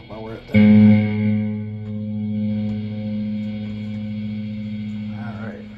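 An electric guitar, a Steinberger clone from China, played through its bridge pickup on a distortion setting: one strummed chord rings out thick and buzzing, then sustains and slowly fades.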